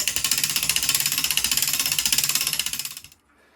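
Herschede MSW-5000 mainspring winder ratcheting with its click reversed, a fast, even run of loud metallic clicks for about three seconds before stopping abruptly.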